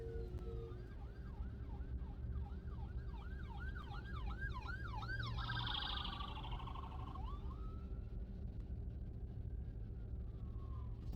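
An ambulance siren sounds from a distance, first a quick run of repeated yelping sweeps, then a long single wail that slowly fades, over a low steady hum.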